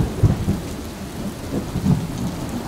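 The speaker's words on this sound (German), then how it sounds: "Jetzt gewittert es sogar." Thunder rumbles twice in low, booming swells during a tropical rain shower on Angaga island in the Maldives, with steady rainfall hissing underneath and no voices.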